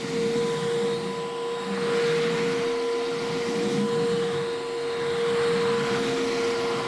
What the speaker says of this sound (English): This is how loud the wet dry vac is.